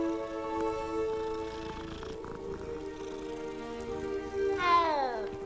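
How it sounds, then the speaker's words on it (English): A cat in the Hogwarts Legacy video game, with sustained tonal meowing and layered musical notes, then a final drawn-out meow sliding downward in pitch. "It's another cat!"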